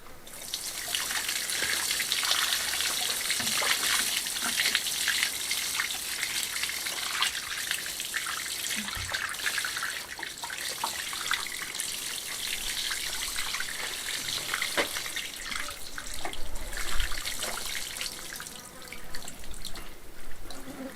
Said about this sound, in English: if you water it from the top onto each stone, it washes off the stuff you've spilt on, and that runs down into the joints